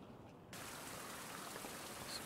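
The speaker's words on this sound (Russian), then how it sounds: "Опять дождь." Steady rain in the survival video game Survival Fountain of Youth, a constant hiss that rises suddenly after a quiet half-second and carries on with no voices.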